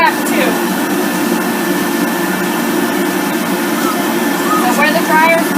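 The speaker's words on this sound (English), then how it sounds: "where the dryer's blowing, I'm just gently brushing where the dryer is" A pet hair dryer blows steadily on a puppy during grooming, a loud, constant close whoosh filling the whole stretch, with faint whimpers or squeaks near the start and end.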